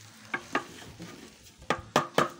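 Pre-cooked vegetable rice stirred and frying in a large pan, cooked in bulk for an event. Steady sizzling runs under several sharp scraping strokes of a utensil against the pan, with the later strokes louder and quicker.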